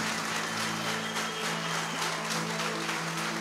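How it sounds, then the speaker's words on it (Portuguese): Steady applause from a crowd fills the whole stretch, dense and continuous, with a faint low hum beneath it. "Pode aplaudir mais forte."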